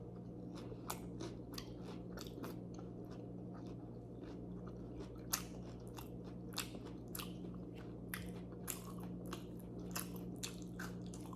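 Crisp, crunchy chewing of a squash and sweet potato fritter (kalabasa okoy) close to the mic, with repeated bites and crackles over a steady low background hum.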